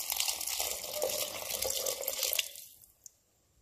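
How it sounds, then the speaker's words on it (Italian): A stream of boiling water pours and splashes into a pot of pasta and chickpeas for about two and a half seconds, then stops, leaving a single faint drip. "aggiungo alla mia quantità una tazza di acqua"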